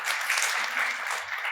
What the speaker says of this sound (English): scattered applause